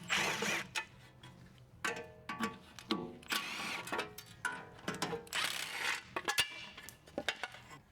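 Tools loosen E10 inverted Torx bolts from a brake backing plate on a Mercedes-AMG S65, giving close metallic clinks, ratcheting bursts and clatter of parts in irregular spurts.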